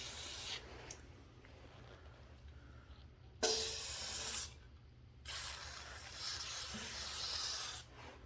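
Fluid Film lubricant sprayed from a can onto the pivot points of a 1970s Moto Mower snowthrower, a few close, loud hissing bursts of about one to three seconds with quiet gaps.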